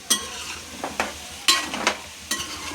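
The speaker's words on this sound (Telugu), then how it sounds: "ఇప్పుడు అల్లం వెల్లుల్లి పేస్ట్ వేసుకోవాలి" Ginger garlic paste fries in oil for a chicken pickle. A few distinct stirring scrapes break a soft sizzle over under three seconds, close and clear, with no speech.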